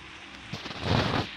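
Rain falls on a bus in a driving video game, a steady hiss that swells into a louder rushing burst before settling back, with no voices.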